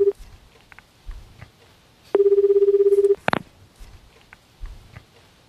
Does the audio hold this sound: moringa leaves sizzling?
no